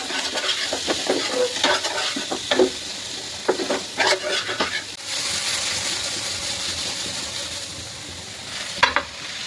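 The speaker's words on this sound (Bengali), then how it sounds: "এবার আমি পনিরগুলো দিয়ে দেবো। এবার হালকা করে ভেজে নেব।" Paneer pieces lightly frying in a pan, a steady close sizzle broken by scraping stirs and spatula taps, with a short sharp clack near the end.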